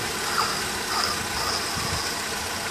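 A Proton Saga BLM 1.6 engine idles steadily with a rough, uneven rumble and faint knocking, close by and continuous, with no talking.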